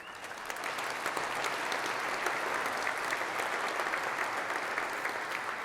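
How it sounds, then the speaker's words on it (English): A conference audience applauds, a dense, even wash of clapping that builds in the first half-second and holds steady throughout with no voices over it. "Oh, I like this applause."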